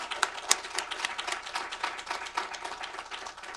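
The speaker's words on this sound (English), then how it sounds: "Please join me in giving a round of applause for all of the women who made this gathering possible" An audience at a ministry gathering applauding for the women organizers and presenters, a modest round of clapping from a room of people, fairly even with a few louder claps early.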